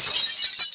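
Glass shatters in the horror video game Granny 3: one short, bright crash with a crisp, high-pitched tinkle that fades quickly.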